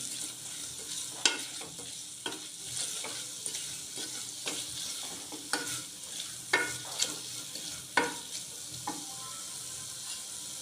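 Onion with ginger-garlic paste and coriander powder fries in a pan, a continuous sizzle broken by repeated sharp spoon scrapes and clinks from stirring, fairly close and without talk.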